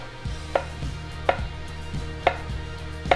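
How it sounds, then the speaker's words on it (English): Vegetables for ratatouille are cut into halves and quarters with a knife, giving four evenly spaced, crisp chops on a cutting board, close and clear, with nothing else heard. "I'll cut these in half, and then I'll cut these into quarters"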